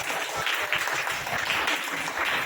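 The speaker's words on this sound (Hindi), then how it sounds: "हाँ, ताली हो जाएगा।" A congregation at a Hindi Christian service claps in a dense, continuous round of applause, steady and fairly loud throughout, with no voices standing out.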